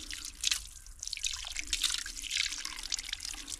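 Cold water from a spring near Vysokovsk, outside Moscow, runs and drips in a continuous close trickle with bright splashy patter and no voices over it.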